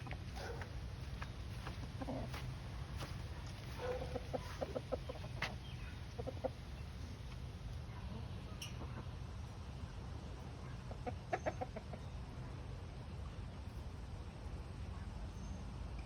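Chickens in a backyard coop cluck and squawk repeatedly over a steady outdoor background, with a person talking at times.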